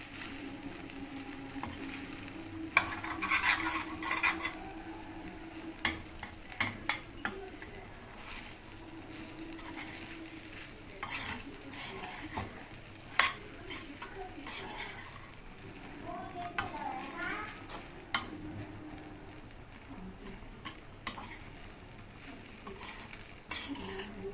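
Fried rice is stirred in a pan, giving soft, intermittent scraping and clinking of a spoon against metal over a faint sizzle, with scattered louder knocks and voices in the background.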